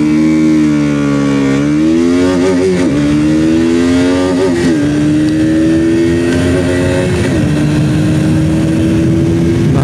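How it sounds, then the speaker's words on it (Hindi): A 2022 KTM RC 200 motorcycle accelerates hard in a top speed test. The loud, close engine revs climb repeatedly, and brief dips mark each gear change before the note holds high and steady. "तो चलिए फिर शुरू करते हैं top speed test of 2022 KTM RC 200।"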